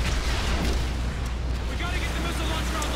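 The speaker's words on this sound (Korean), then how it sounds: "적 배는 부서지는 소리도 즐겁네요" Game explosion of an enemy ship being destroyed in Call of Duty: Ghosts, a loud continuous rumbling blast with crackling debris, steady and dense throughout.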